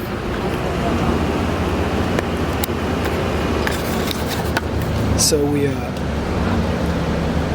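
Road noise fills the inside of a bus on a ride from Sulmona, a loud continuous rumble and hiss with occasional rattles and clicks, and a voice speaks briefly.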